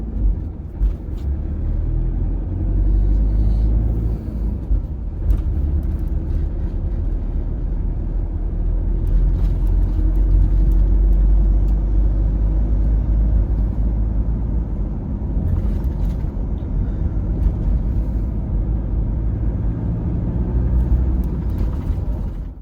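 A car drives along a road with a steady, loud low rumble of engine and tyre noise that stays even throughout, and no voices are heard.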